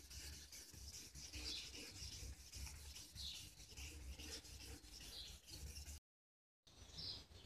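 Steady rasping of sandpaper rubbed back and forth over new paint on a Honda CG 125 motorcycle, close and continuous, briefly cut to silence near the end.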